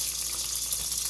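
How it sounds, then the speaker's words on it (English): Lime juice poured onto a steak, a soft, steady liquid trickle and splash running continuously at moderate level with no talk. "I'm going to pour some lime on that steak"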